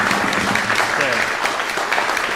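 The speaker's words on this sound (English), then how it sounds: "You applaud again." A class audience at a masterclass on a Bach prelude claps in a dense, steady wash of applause that fills the short moment, with some voices mixed in.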